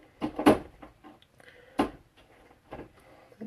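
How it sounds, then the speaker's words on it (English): A cat rattles a door, producing several irregular knocks and clattering bumps, a loud cluster at the start followed by softer, scattered rattles and thuds. "Damn cat needs to leave my door alone."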